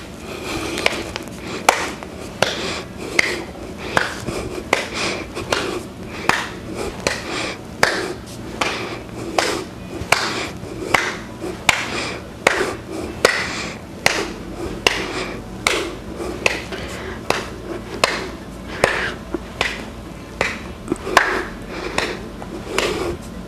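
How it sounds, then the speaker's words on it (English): Sharp hand claps repeat steadily through a clap crunch abs workout, roughly one per second, close and crisp with a faint background hum and no talking. "We're starting with our clap crunches."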